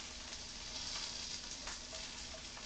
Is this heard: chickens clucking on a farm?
no